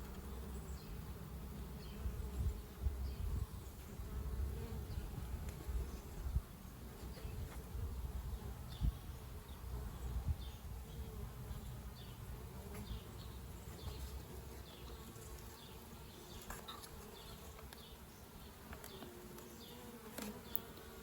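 Honeybees buzz softly and continuously around a small mini nuc hive, a faint, steady hum with occasional individual bees droning closer by.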